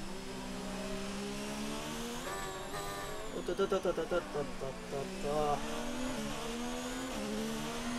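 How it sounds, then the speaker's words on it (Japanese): An F1 car in the F1 2019 racing game over-revs under engine braking, its engine note rising and pulsing in a series of rapid surges, heard beneath someone talking excitedly over the continuous racing sound. "ちょっと今エンジンブレーキで横着しようと思ったら回転高くなりすぎた。"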